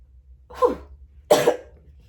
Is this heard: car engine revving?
no